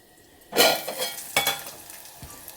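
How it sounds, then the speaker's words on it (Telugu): Ginger garlic paste frying in a hot pan for an aloo tomato curry, a sudden loud sizzle that bursts in, fades, and flares again as it is stirred, with faint scraping of the pan. "హాఫ్ మినిట్ అయితే మంచిగా మగ్గించుకోవాలి అల్లం వెల్లుల్లి పేస్ట్ పచ్చివాసన పోయేంతవరకు"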